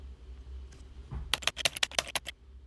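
Fingers tap out a search on a computer keyboard, a quick burst of about a dozen crisp, close keystrokes in an irregular rhythm after a quiet moment, with no speech.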